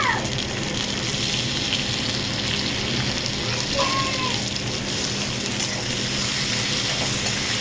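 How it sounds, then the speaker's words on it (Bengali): Onion frying in hot oil with chopped ginger and tomato, a steady close sizzle holding evenly throughout with a brief stir partway. "পেঁয়াজটা ভেজে ফিরছি"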